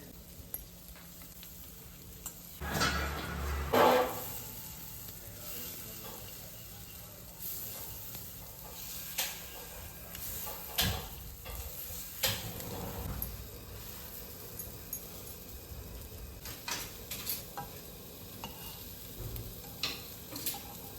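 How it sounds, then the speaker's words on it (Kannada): Eggs frying in a pan with pepper and chilli powder, a low continuous sizzle broken by intermittent spatula scrapes and clinks, one louder burst early on. "ಆಮೇಲೆ ಇವಾಗ ಎಲ್ಲ ಎಗ್ನೂ ಅದರೊಳಗಡೆ ಹಾಕಿ ಫ್ರೈ ಮಾಡಬೇಕು."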